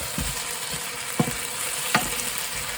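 Green finger chilies fry in a curry pan with a steady crackling sizzle, broken by a few light clicks and scrapes of stirring.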